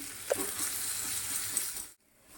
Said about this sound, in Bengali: এবার তেলের ওপরে একটু জিরে একটুখানি গোটা গরম মশলা আর এবার কেটে রাখা পেঁয়াজ কুচি দিয়ে দিলাম